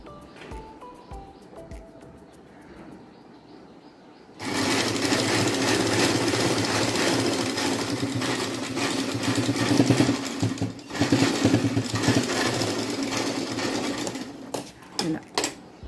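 Electric sewing machine stitching blouse pieces together, a loud steady whir starting abruptly after a quiet start and running almost continuously with brief dips and pauses near the end.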